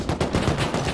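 Gunfire in the video game Rust during a squad firefight, a dense, loud rattle of rapid overlapping shots filling the whole moment.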